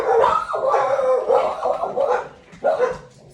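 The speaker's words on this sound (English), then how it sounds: "the dogs, they're barking" Dogs barking and yipping in bursts, fairly close, with some howling, whining tones between the barks.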